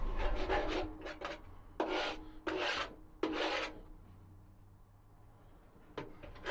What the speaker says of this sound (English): This is my trusty paint scraper. I find it really good for removing actually all the paint